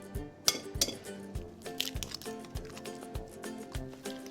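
A spoon mixes a feta, crushed pink peppercorn and egg stuffing in a bowl, giving steady close scraping and light clinking strokes at a regular rhythm.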